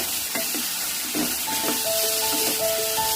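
Carrot, papaya and chicken stir-fried in a pan, with a steady sizzle and hiss and a few soft stirring scrapes, no voices.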